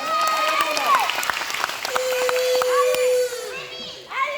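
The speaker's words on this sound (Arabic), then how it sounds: "صفقوا عليه" Applause from an audience at a children's comedy sketch show, with high children's voices and squeals over steady clapping throughout.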